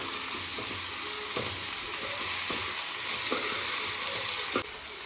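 Sliced tomatoes added to onions sizzling and frying in a pan, a loud steady hiss broken by regular scrapes and knocks of a spoon stirring, with no voices.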